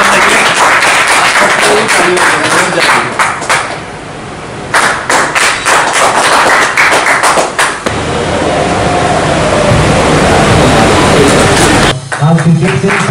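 Children's clapping and applause at a welcome for guests at a school sports event in Darbhanga, a steady dense patter filling most of the clip with brief lulls, loud and near, a voice briefly audible.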